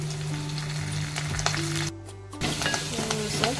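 Crushed ginger-garlic paste and curry leaves sauté in a hot pan with a loud, steady sizzle and frying crackle. The sound drops away briefly about halfway through, then the sizzling resumes with light stirring. No one speaks.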